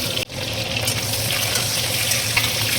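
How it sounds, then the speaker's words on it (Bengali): Eggs fry in oil left over from fried eggplant, giving a loud, steady sizzle close by that goes on without a break after a brief dip at the start. "একই তেলের উপরে ডিমগুলো ভাজি করে নেব"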